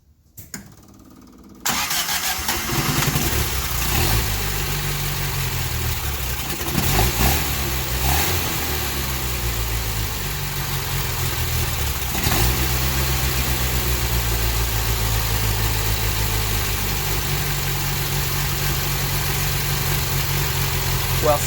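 A 1972 Fiat 850 Spider engine cranks briefly and catches without choke, then settles into a steady, slightly uneven idle close by, with small revs along the way.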